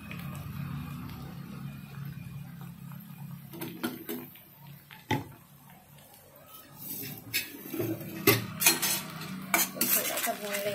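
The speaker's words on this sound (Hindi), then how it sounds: "थोड़ा सा भून लेंगे।" Sprouts are stirred with sauces in a pan as a spoon scrapes and clinks against the metal, irregular and close, with soft sizzling underneath and sharper knocks toward the end.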